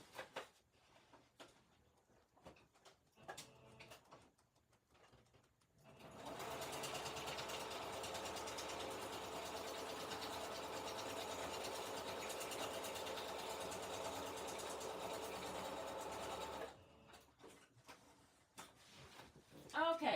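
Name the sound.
sewing machine stitching lace tag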